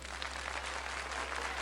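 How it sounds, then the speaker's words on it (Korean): Children at a Korean church Sunday service give a steady, fairly faint round of thankful applause that fills the whole stretch without any voices. "은혜 주신 하나님께 먼저 감사의 박수 올려드려야겠죠?"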